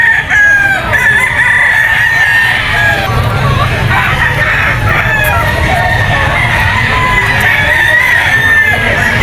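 A Kanawayon yellow-legs stag rooster crows at a pet market, its clear, repeated calls rising above a constant bed of market noise and distant voices.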